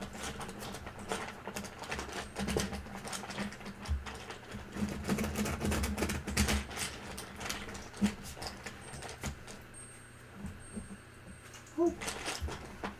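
Tarot cards are shuffled by hand in a dense, rapid riffling patter that runs for several seconds, then thins to a few soft flicks, close and quiet, with a voice speaking intermittently.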